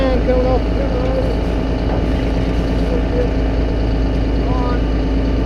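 A generator engine runs steadily and loud, with a constant low drone and a busy mechanical rumble that stays even from start to finish, and no voices over it.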